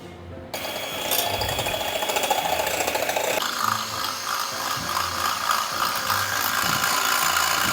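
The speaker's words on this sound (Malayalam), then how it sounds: "ഞാൻ ആദ്യം 2 മുട്ടയാണ് ചേർത്ത് കൊടുക്കുന്നത്. നമുക്കൊന്ന് ബീറ്റ് ചെയ്തെടുക്കാം." Two eggs are beaten for a ghee cake with a mechanical mixer, giving a loud, continuous rattling, ratchet-like whir close by that steps up in intensity partway through, with no talking.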